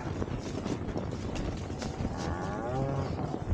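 Cattle grazing in a winter pasture, with a drawn-out low moo rising near the end over a wind-buffeted background, fairly close and alone without talk.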